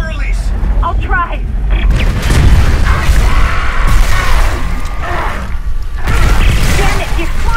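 A loud explosion rumbles and crashes in the Dead Space video game, a dense, sustained roar of debris and mechanical clatter that stays heavy throughout, with voices in the mix.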